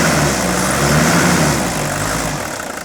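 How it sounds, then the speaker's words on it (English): An old diesel engine running on diesel purge during a fuel system service hums with a steady, loud, close idle, smooth and even, easing slightly toward the end, with no talk. "Notice how smoothly these engines run on diesel purge"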